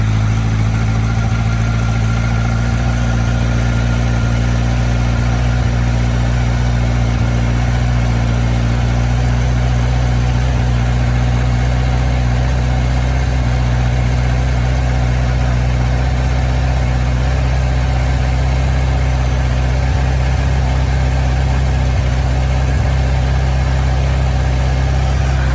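A 2003 Kawasaki Z1000 motorcycle engine idles continuously with a steady, loud low-pitched rumble and an even throb throughout, heard up close with no talking.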